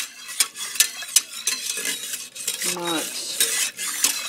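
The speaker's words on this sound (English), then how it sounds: "So I'm going to continue to stir this and possibly add just a little bit more flour to it" A spoon stirring pot roast gravy thickened with flour in a pot, making continuous scraping and clinking against the pan with a faint sizzle underneath, close and fairly loud, while a voice briefly speaks.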